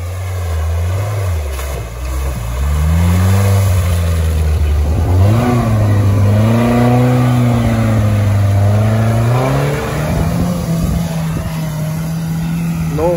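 An off-road UAZ engine revs hard during an off-road race, its pitch climbing and falling in loud, sustained surges, carrying an odd, unpleasant metallic note.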